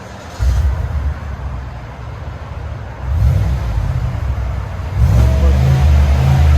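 A 2020 Chevy Silverado with a 6.2L V8 and a Magnaflow muffler, its deep exhaust rumbling loud and close and swelling with revs in three stepped surges, no talk over it.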